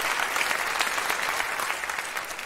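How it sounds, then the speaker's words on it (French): A live audience breaks into steady applause at a stage show, dense clapping running evenly throughout at close range with no talk over it. "on applaudit fort!"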